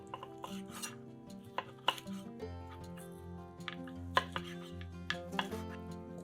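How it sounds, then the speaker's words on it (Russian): A knife chops cooled ribs into portions steadily on a cutting board, sharp irregular knocks over quiet background music. "Остывшие ребрышки нарезаем на порционные куски."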